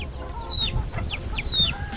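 Backyard hens on an off-grid Hawaiian homestead cluck and chirp close by over bananas, with a few quick rising squawks in a busy, steady flock chatter.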